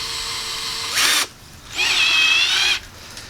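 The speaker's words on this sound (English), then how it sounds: "if you're going to drill into a curved metal surface, you ought to start with a small drill bit" A power drill with a small bit whines into a curved metal tube in two close bursts, a short one then a longer, steady high-pitched run, with quiet pauses between.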